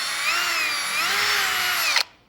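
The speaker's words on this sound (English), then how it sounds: "We're now ready to square up the hole and drill in the center of the second hole." A power drill whines steadily and loudly while boring a hole for a Polaris XPEDITION Gen 2 turn signal kit, then stops abruptly near the end.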